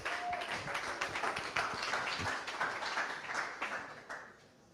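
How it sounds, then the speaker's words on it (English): A festival audience at a Curious one-day festival gives a speaker a round of applause, soft, scattered clapping that stays fairly faint and tapers off toward the end. "So round of applause, please, for Max."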